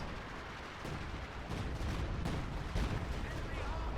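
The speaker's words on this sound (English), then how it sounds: "Artillery coming up" Sustained artillery barrage in Company of Heroes 2 as British forces hold against a German Tiger, a dense continuous rumble of booms and blasts that swells after the first second and stays loud throughout.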